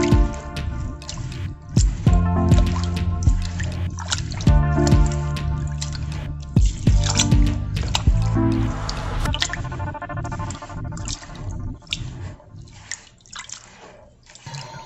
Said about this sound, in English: rinsing the rice and crushing it between our hands till the water is